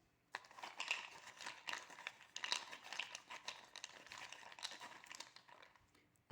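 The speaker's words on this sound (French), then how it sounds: "Je vais vous sortir quelques runes" Small rune stones rattle and clack together as they are drawn out of a bag, a dense run of light clicking and crinkling from about 0.3 s to the end, close and fairly quiet, with no talk over it.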